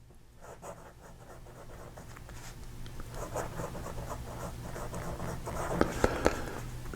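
A flexible fountain pen nib scratches softly across paper in steady, continuous strokes, faint and close, with a few sharper taps near the end and no talk.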